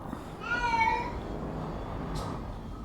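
A cat meows in a short rising and falling call, fairly close, over a steady low mechanical hum and game background noise.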